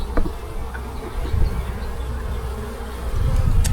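Honeybees buzz steadily and close at an open hive while a beekeeper handles a young queen, a dense insect drone that swells louder near the end with a few faint handling knocks.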